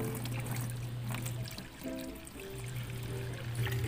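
About a liter of green water, a culture medium for daphnia moina, is poured into a container, making a continuous close trickling and splashing that briefly dips midway, then resumes steadily with no talk.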